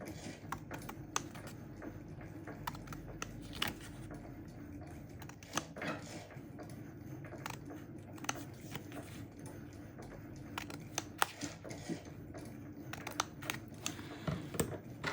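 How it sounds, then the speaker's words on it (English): Blades snip slits into cardstock for a handmade card, a soft, steady run of quick, faint clicks and crisp cuts close by, with no talking. "So basically we are making these 1/2 inch slits between these 1 inch blocks."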